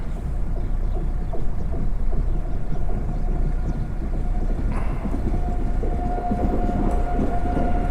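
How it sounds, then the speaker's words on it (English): A high-speed train in Andorra rumbles past very slowly and steadily, a low continuous throbbing with faint metallic squeals rising partway through. "That's a high-speed train going really, really slowly."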